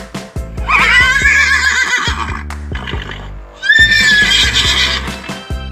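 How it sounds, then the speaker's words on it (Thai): A horse neighs loudly twice, a long whinny followed after a short pause by another, close and clear. "เป็นเสียงของม้า"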